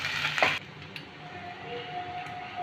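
Ginger-garlic paste ground with cumin and green chilli is stirred in a hot pan for mutton keema ghugni, a brief loud sizzling scrape at first, then a steady quieter frying hiss with faint utensil taps.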